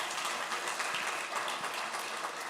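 Audience applause at a live panel discussion, a steady wash of many hands clapping throughout, fairly distant and sustained without voices over it.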